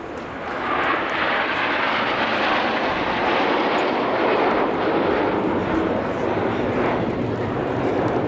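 Red Arrows jets flying in formation at the Ayr air show roar steadily overhead, a broad sustained rumble that holds for several seconds, heard from the crowd at a distance.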